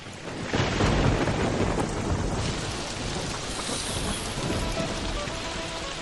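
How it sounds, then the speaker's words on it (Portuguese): Rain begins falling steadily while thunder rumbles, a dense, continuous downpour hiss with low booming rolls, fairly loud and close throughout, with no voices. "observa que começa a chover"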